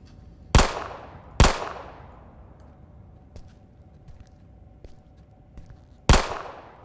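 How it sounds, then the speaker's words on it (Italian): Gunshots in a video game: three sharp, loud reports with ringing decay, two in quick succession and a third a few seconds later, with fainter clicks and taps in between. "Io li sparo molto a distanza."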